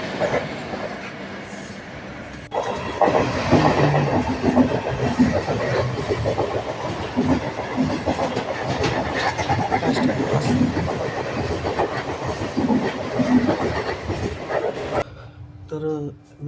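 A train rolls steadily past in India, wheels clattering and squealing on the rail joints with a continuous rumbling roar that stays loud for most of the stretch before cutting off abruptly near the end.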